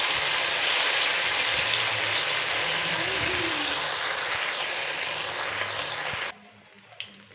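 Marinated chilli paneer pieces frying in hot oil in a wok, a loud dense steady sizzle that drops away abruptly near the end, leaving quiet rustling.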